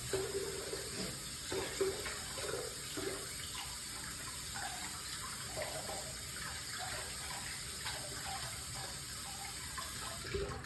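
Water runs from a tap over a washcloth in a sink, a steady close splashing wash that carries on throughout with small shifts in flow and no voices.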